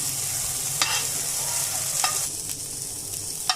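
Sweet corn cooks in a pan while its water boils off, a steady hiss and sizzle with a few sharp spoon clinks against the pan.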